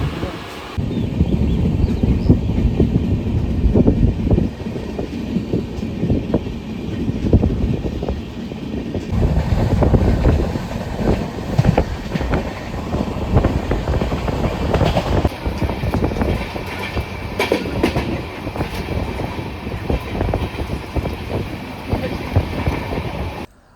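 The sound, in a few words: long-distance train running, heard from inside the coach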